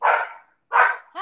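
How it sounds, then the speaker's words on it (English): Dogs barking indoors, two sharp close barks spaced about half a second apart, followed by the start of a third, loud and clear with no talk over them. "they're my dogs."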